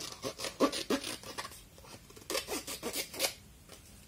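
Scissors snip through ribbon in short, close crisp cuts, several quick snips in two bursts with brief pauses between, alone with no talking.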